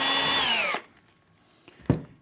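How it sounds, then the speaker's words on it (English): A power drill whines loudly as it bores a quick hole in a kitchen unit, its pitch falling as the bit slows before cutting off, followed by a faint knock and a sharp thud. "drill a quick hole."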